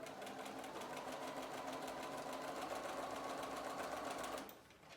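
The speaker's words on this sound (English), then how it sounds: "we're sewing right on top of that line we marked" Sewing machine stitching along a marked diagonal line on quilt pieces, a steady fast mechanical whirring hum close by that stops abruptly near the end.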